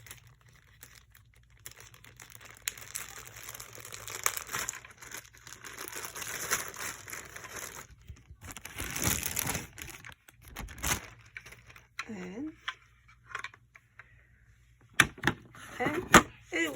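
Plastic bag crinkles and rustles in bursts while a magnetic clip hoop for an embroidery machine is unboxed, close up with irregular handling noises and pauses between them.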